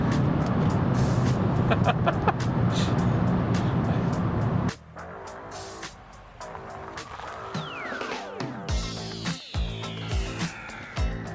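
Cabin sound of a 2016 Hyundai Veloster Turbo at highway speed, a steady broadband engine and road drone that drops abruptly to a quieter, lighter hum midway, with a few faint rising tones near the end.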